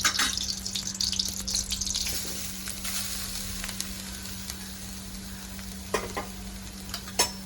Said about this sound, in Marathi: मंद आचेवर हलवीत राहायचं खोबरं चिपटून नाही म्हणून तूप टाकले